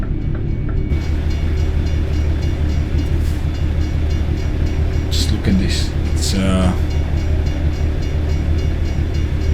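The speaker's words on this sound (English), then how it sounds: "Train passing." Train passing in a truck driving simulator game, rumbling and rolling steadily under an open-pipe V8 truck engine drone, with a voice speaking briefly over it.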